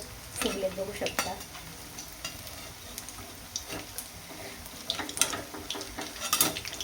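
Medu vada fry in hot oil in a kadhai, a soft steady sizzle running underneath, with occasional sharp clinks and scrapes of a utensil against the pan.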